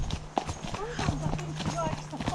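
Hooves of an Irish sports horse and a cob clip-clop at a steady walking rhythm during an outdoor hack, close by, with people chatting over the footfalls.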